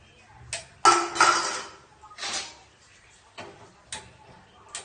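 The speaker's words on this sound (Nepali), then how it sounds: "भाँडा पनि मस्काउने" Dishes, pots and pans being scrubbed, with a series of short clattering knocks and scraping bursts of metal on metal, close and irregular.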